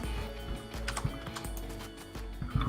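Rapid computer keyboard typing, close and fairly loud, with irregular clustered keystrokes running under steady background game music, no voices.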